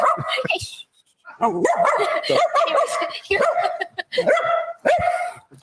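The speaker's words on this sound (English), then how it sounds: "he's barking because he can see himself" A dog on a live TV set barks at its own image on camera, giving a run of loud, close yips and barks in rapid bursts with short pauses between them.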